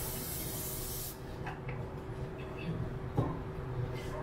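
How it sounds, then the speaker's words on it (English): A steady hiss of aerosol cooking spray onto a baking tray for about a second, followed by faint rubbing and light handling noises nearby. "I'm just going to put some spray on it"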